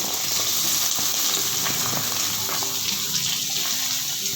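Onion frying in oil over a low flame for a peas gravy, a continuous hissing sizzle with faint crackles, steady and fairly close.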